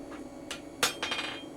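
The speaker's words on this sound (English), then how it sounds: "Just take out all the hammer marks." A hammer strikes hot steel on an anvil while small blacksmith tongs are being forged. Three or four ringing metallic blows land over background shop noise, with the third the sharpest and loudest.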